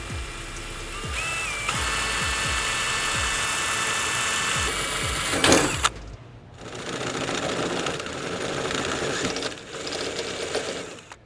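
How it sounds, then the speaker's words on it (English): A 1/8 inch drill bit bores a pilot hole into a car trunk lid on a Subaru BRZ, a close, loud, steady buzzing drill whine that runs for several seconds, then stops and restarts in shorter bursts. "We're gonna start off with a 1/8 inch drill bit first to get a pilot hole."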